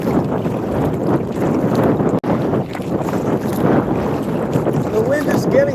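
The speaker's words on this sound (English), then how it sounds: "The wind is picking up." Steady, loud wind blowing over a lake, buffeting the microphone with a continuous roaring rush and no pauses.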